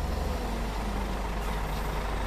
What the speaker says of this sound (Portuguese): Caminhão aí abrindo a boiada.